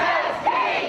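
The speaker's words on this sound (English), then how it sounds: "Every chant" Students at a March for Our Lives rally in Oregon chant together as a loud, massed crowd, voices rising in a continuous roar with one shout swelling briefly above the rest.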